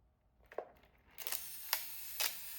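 Olympus OM2n 35mm film camera being handled, its shutter mechanism cocked and released in a few sharp mechanical clicks and snaps, close and clear with no talking.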